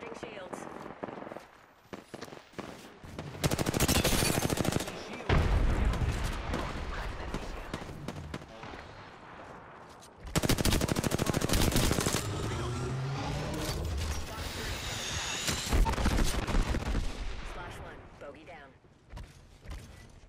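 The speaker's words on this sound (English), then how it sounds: "The enemies are shooting." Enemy gunfire in Apex Legends crackles in dense bursts across a match, loud and sustained with heavy volleys and short lulls, mixed with game noise and a voice talking over it.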